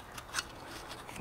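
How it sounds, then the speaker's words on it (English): A razor blade trims a thin shaving of rubber gasket on a Land Cruiser split-case transfer case, giving a couple of short, crisp snipping scrapes close by in an otherwise quiet workshop. "you can just take your razor blade"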